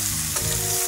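Onions sizzle steadily in hot oil in a pan, a dense continuous frying hiss with a faint stir midway, close and alone, no voices, for an Assamese fish and vegetable curry.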